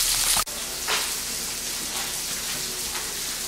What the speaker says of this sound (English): they sound phenomenal. You can hear that. That sizzling.